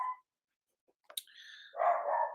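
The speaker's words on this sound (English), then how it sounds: "Got a miniature schnauzer. They're hilarious dogs, but my gosh, they're so loud." A miniature schnauzer gives a short yip, then after a quiet gap a few faint clicks and a higher whine lead into a louder bark at the end, heard alone without speech.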